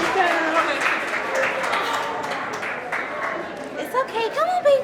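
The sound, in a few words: shelter staff applauding after moving the last animal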